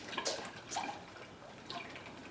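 Gurgling, bubbly liquid sounds as air is pushed out of coolant hoses on a Hyundai Genesis 2.0T R Spec, a few soft watery bursts, close but faint.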